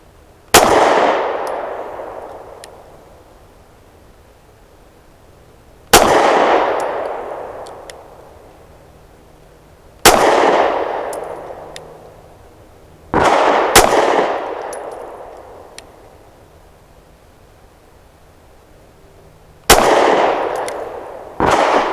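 Five loud, separate shots from a Smith & Wesson M&P Shield Plus pistol firing Sterling 115 grain bulk ball ammo, each a sharp crack with a ringing tail, spaced several seconds apart with silence between them.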